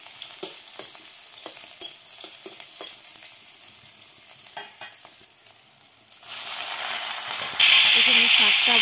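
Chopped chili and garlic drop into hot oil in a pan. Scattered clicks and stirring come first, then the sizzle rises sharply into a loud, bright, continuous frying hiss, with a voice faintly present at times.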